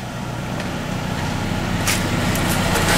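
A Nissan Altima's engine idles with a steady, low rumble, continuous with a slightly uneven, rough character, and a few faint higher ticks come in toward the end.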